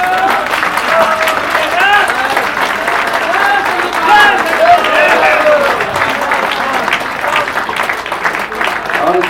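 A seminar audience applauds at a coin-launch event, with sustained crowd clapping and murmuring running underneath a continuous voice speaking over it.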